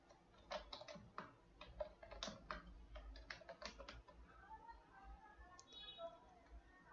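Fast bursts of keystrokes on a computer keyboard as a repository description is typed, uneven rhythm with short pauses, close and fairly quiet, then a faint clicking after the typing stops.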